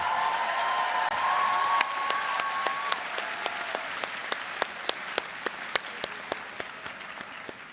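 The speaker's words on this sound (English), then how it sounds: "So please give them a very large round of applause." A large audience at a university commencement ceremony applauds in a dense, sustained wave that gradually thins out to a few steady, evenly spaced claps.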